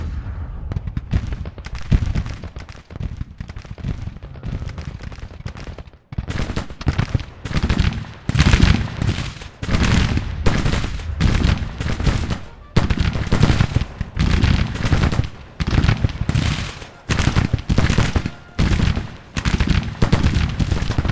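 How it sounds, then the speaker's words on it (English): Rapid, relentless Gatling machine gun fire rattles through a Civil War battle video game, with dense bursts of gunshots, booming volleys and explosions blending into a continuous, loud barrage. "Do I hear Gatling guns here? The enemy has machine guns on us."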